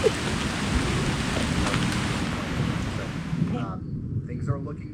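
Heavy rain pours steadily on an off-grid homestead during a storm, a dense continuous hiss with low rumbling that cuts off abruptly near the end, leaving faint patter and brief sounds.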